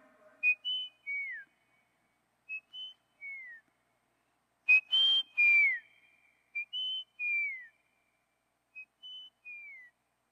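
A human whistler imitates a second forest bird's call, repeating a short phrase of two or three clear notes that rise and then slide down, four times with pauses between, close and alone.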